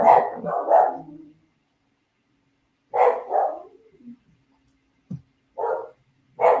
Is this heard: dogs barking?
yes